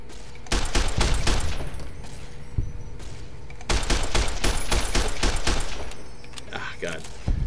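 Service rifle fire in Fallout New Vegas during a ghost town gunfight: loud bursts of rapid gunshots in two volleys, separated by a short lull, with sharp reports and echoing tails, while a voice talks over them.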